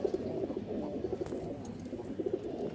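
Rajshahi Bashiraj pigeons give soft, repeated cooing calls in short bursts over a steady low murmur of other birds, heard close and fairly quiet with no talk.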